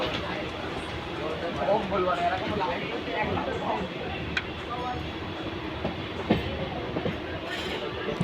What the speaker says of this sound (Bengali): ট্রেনটা কেবল গেদের স্টেশনের মধ্যে প্রবেশ করেছে